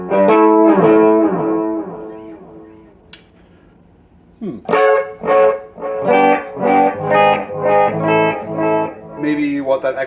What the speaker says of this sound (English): Maybe what that echo would sound like through an oil can?